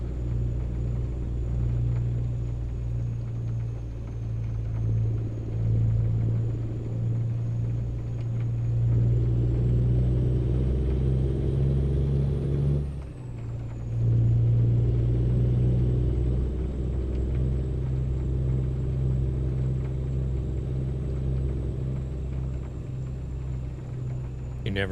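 A truck engine with an open pipe exhaust in Euro Truck Simulator 2 drones steadily in a deep, loud rumble, with a brief dip partway through before the engine note returns, no talk.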